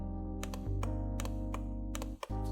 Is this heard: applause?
no